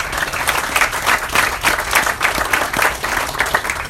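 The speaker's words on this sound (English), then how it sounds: "everyone deserves applause for what they've done" Sustained audience applause fills a Boy Scouts of America ground-breaking ceremony, a dense, steady patter of many hands clapping at even loudness for the whole stretch, with no voices over it.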